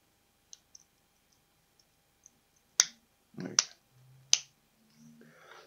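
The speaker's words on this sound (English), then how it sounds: "There you go, clicks into place." Plastic model kit parts for a missile launcher's elevating boom snap together, a few crisp clicks after light ticks and handling noises, close and fairly quiet.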